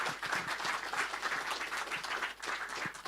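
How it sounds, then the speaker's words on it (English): Steady applause from a conference audience for a speaker, dense and continuous clapping at moderate volume throughout, with no voices over it. "a round of applause for Fabian"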